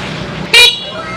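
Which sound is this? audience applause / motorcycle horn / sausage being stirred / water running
motorcycle horn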